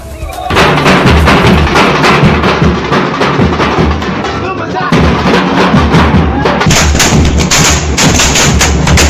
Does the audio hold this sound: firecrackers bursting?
yes